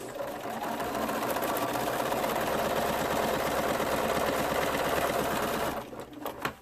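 A sewing machine stitches quilt pieces together in a fast, steady, close mechanical whirr with a rapid needle rhythm that runs for several seconds before slowing and stopping into a few clicks, with no talking.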